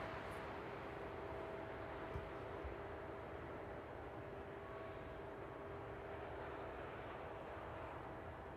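An aircraft arrives at East Midlands Airport at night, a steady low, distant engine roar that holds evenly throughout.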